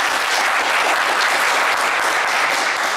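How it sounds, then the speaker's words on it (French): A studio audience on a French television game show applauding loudly, a dense, sustained wash of clapping at full volume throughout with no voices standing out. "On va pouvoir les applaudir très fort."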